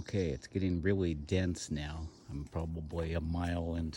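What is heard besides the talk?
No everyday noise stands out behind the speech.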